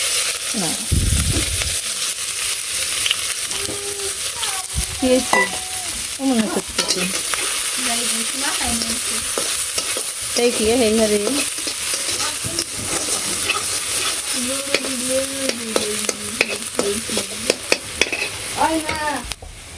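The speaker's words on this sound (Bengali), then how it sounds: "এখন একটু পেঁয়াজ ভাজবো, একদম ঝুরি করে করে এই যে কুইটা রাখছি, এগুলা বেরেস্তা করে" Finely sliced onions fry into crisp beresta in a village kitchen, a loud continuous sizzle with frequent clattering stirs and scrapes, while tonal chatter or calls murmur faintly in the background.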